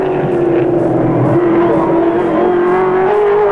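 Race cars get underway at the green flag of the 1983 Bathurst 1000, with Dick Johnson's green car among them: a loud, sustained engine roar with a steady droning tone, constant throughout and heard alone.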